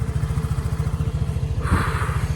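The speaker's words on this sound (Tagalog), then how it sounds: "Start ko lang yung motor." A 175 cc motorcycle engine idles with a fast, even putter, then a brief louder burst as it catches and revs slightly.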